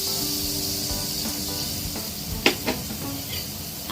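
Grated carrot hitting hot ghee in a pan gives a steady broadband sizzle, with a couple of brief stirring scrapes partway through; close and continuous, no voices.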